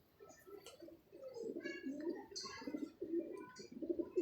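Pigeons coo close by at a pigeon show, giving a run of soft, repeated low throaty coos with a few brief higher chirps mixed in.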